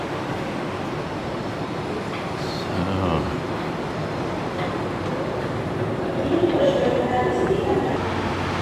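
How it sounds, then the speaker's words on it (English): A Kuala Lumpur MRT/LRT metro train pulls into the platform with a rising rumble and a hiss of brakes, under steady station noise while a person speaks nearby. "The next train is coming."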